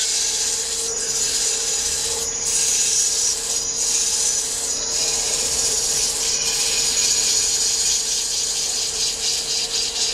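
A hand tool takes fine cuts along wood near the beading, a continuous close rasping scrape with brief pauses between strokes, loud and alone.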